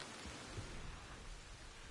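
Rain falls steadily in the Red Dead Online game world, a faint, even wash of hiss with no distinct drops or thunder, heard alone for a couple of seconds.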